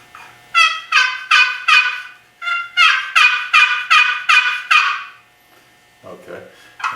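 Turkey yelps worked on a Mann Made wooden box call, a run of about eleven raspy, evenly spaced notes in two series, loud and close, followed by a brief soft scrape.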